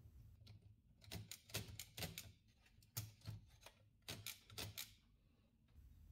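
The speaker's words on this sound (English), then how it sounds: "With this lever you move the carriage of the typewriter." Olivetti Lettera 35 manual typewriter with its carriage pushed along by the return lever, giving a series of crisp mechanical clicks and ratcheting snaps at an uneven pace, quiet and close with no voices.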